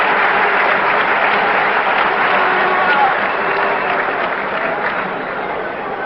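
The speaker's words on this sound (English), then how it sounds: "Gary gets a fine round of applause" Stadium crowd applauding Cincinnati pitcher Gary Nolan as he leaves during the 1972 World Series Game 6, a steady, dense roar of clapping and cheering that holds loud throughout and eases slightly near the end.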